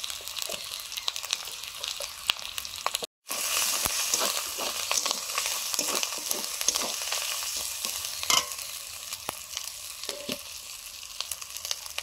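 Spices with chili powder and turmeric being sautéed in spice water in a pan, a dense, steady close sizzle with frequent stirring clicks and scrapes and a short break partway through.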